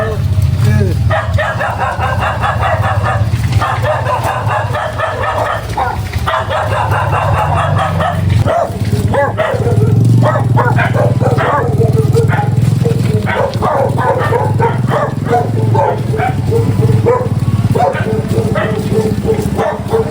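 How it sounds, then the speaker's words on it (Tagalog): Dogs bark repeatedly outside in a seaside village, the barks sounding in bursts at middle distance under ongoing talk and passing vehicle noise. "Matatapang ang aso dito sa labasan."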